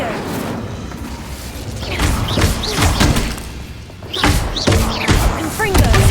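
Incendio fire spell in the wizarding game Hogwarts Legacy, a series of loud whooshing thumps and impacts mixed with combat sounds, repeating several times in bursts across the clip.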